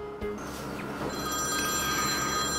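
A telephone rings steadily and loudly, its sustained bell-like tone filling the moment before a call connects, as part of a Peppa Pig toy play scene calling Emily.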